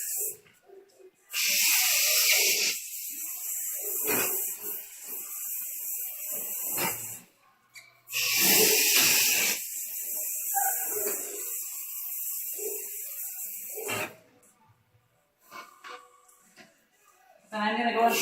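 A hose sprays water across a dog kennel during cleaning, giving two long, close, loud hissing bursts of several seconds each, separated by brief pauses.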